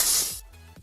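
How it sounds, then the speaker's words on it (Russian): A gas spray canister releases one short, sharp burst of loud hiss lasting under half a second, then cuts off abruptly, leaving a quiet background. "та брызгает в него газовым баллончиком"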